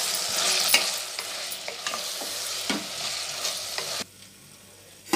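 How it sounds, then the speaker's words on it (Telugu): Drumsticks, tomatoes and chilli powder stirred into sambar in a village kitchen, a soft sizzle with irregular scraping stirs and clinks, close by, dropping to near quiet near the end with a final knock. "టమాటా పండ్లు, కారం, తగినంత కారం వేసేసుకుని బాగా కలిపేసుకుందామండి"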